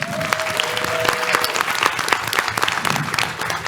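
Steady applause from a small crowd at a live panel at PAX West 2023, dense clapping filling the whole moment at a fairly close distance.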